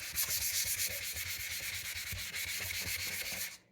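A washable sanding block scrubs back and forth in a quick, steady rhythm, a close, continuous abrasive rasp that stops abruptly near the end.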